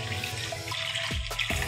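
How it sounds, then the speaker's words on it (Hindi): A jug of water pours into a pot of simmering kadhi gravy, giving a close, steady splashing gush that rises and falls over a faint kitchen background hum. "ये मैंने पानी को डाल दिया है।"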